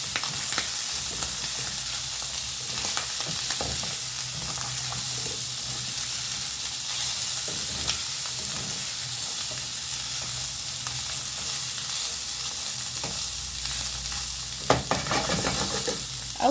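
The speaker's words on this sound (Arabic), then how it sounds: "هنحط الفلفل دلوقتي" Peppers frying in a pan while being stirred, a steady close sizzle and hiss with occasional scraping and clinks from the stirring throughout.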